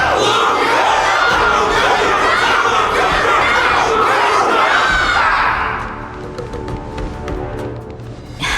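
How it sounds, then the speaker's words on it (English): A large crowd in Honkai Star Rail roars and cheers with massed shouting, loud and sustained for several seconds before fading into quieter background tones. "Can't you hear? Everyone's cheering for you"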